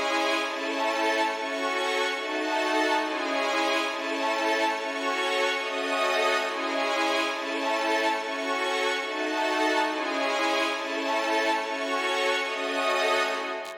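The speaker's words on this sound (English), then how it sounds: "And once all those effects have been added, the strings now sound like this." Orchestral strings treated with reverb, Soothe 2, EQ and a J37 tape plugin in FL Studio for a subtle wobble: a dense, sustained, lush string pad that holds steadily at even loudness, with no talk over it.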